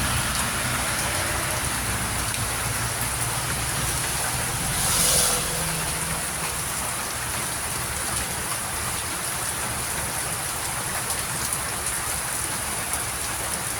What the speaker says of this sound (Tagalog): Dito sa Leyte, tuloy-tuloy ang ulan, mahina lang.